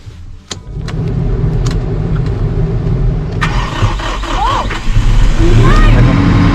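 A frozen ranch tractor engine, just primed, cranks and runs with a continuous rough, mid-pitched mechanical chug that grows louder near the end, heard close up with people talking over it.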